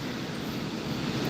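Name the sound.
water of the falls in the background at Falls Park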